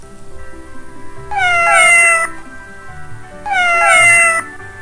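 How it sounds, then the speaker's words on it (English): A cat meows twice, each a clear, drawn-out cry with a pause between, close and fairly loud over a quiet background. "The sound of cat is called meow. Its sound is meow."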